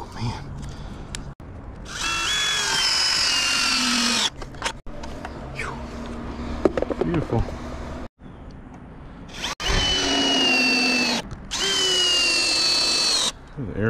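A power drill building a tree stand whines loudly in several long bursts, with rising and falling pitch as screws bite into wood, separated by short pauses and occasional clunks.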